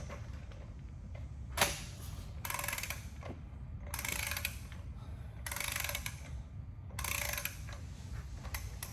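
Ratcheting clicks in short bursts as a wrench breaks loose the seat ring of a 2-inch D valve during a 657 trim change, several bright clusters spaced a second or so apart over low shop rumble, with no talk.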